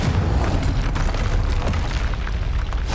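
Confringo spell explosion in the game Hogwarts Legacy: a loud, sustained booming blast with heavy low rumble and crackling debris, filling the whole stretch without letup.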